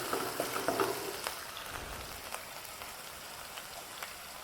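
Ginger pieces and cumin sizzling in hot oil in a pan for a potato curry, a steady close frying hiss with scattered crackles and pops, louder at the start and then settling.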